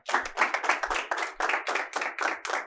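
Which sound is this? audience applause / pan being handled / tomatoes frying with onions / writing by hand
audience applause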